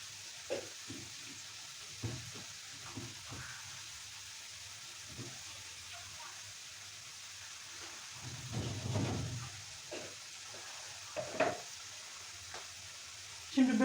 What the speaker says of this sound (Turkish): böreğim de ısınsın. Bir alt üst yapacağım.